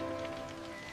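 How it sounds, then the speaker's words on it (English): Soft, light rain falls on a surface with a steady, gentle patter for a brief moment, quiet and even throughout. "the rain is soft now"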